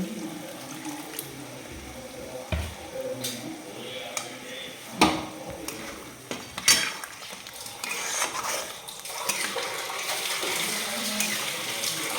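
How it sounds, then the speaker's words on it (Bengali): Water is poured into a pot of rice, measured at two cups of water to each cup of rice. A close, continuous splash and trickle rises toward the end, with scattered clanks of the pot along the way. "দিয়ে দিচ্ছি পরিমাণ মতো জল"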